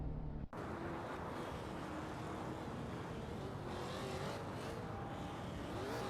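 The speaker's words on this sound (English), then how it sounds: "we're watching a race at Indianapolis Vintage Track with Modern Street Cars" Modern street cars racing around the Indianapolis vintage track in a racing video game, engines droning and whining steadily at moderate loudness after a brief dropout near the start, with no talk.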